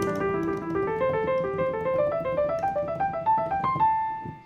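Solo jazz piano runs through permutations of two short melodic cells, climbing steadily in pitch in quick, even note groups before settling on a final held tone, with no voices.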